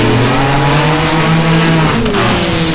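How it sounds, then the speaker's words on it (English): A supercharged V8 drift car roars at full throttle during a drift competition, loud and sustained with steady engine harmonics, tire squeal, and a shift in pitch near the end. "McDuffie in the supercharged V8 there."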